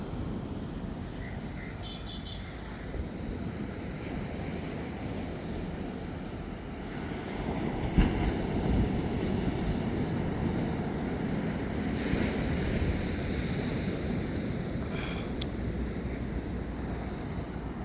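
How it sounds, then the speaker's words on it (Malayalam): Continuous roar of sea surf surging onto the shore at Thanni Beach, mixed with steady wind buffeting the microphone; no speech. "കടലിങ്ങനെ മുകളിലടിച്ച് കയറുകയാണ്."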